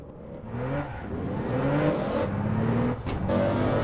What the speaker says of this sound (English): I can hear someone driving.